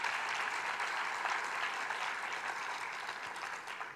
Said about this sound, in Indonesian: Berikan tepuk tangan bagi Yesus Tuhan kita.